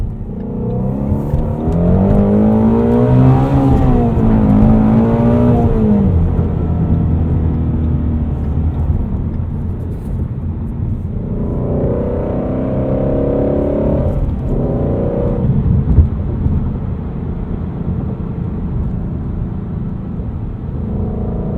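A Ford Mustang Shelby GT350 engine revs hard past 8,000 RPM from inside the cabin, rising in pitch, easing, then climbing again with a loud steady roar and no talk.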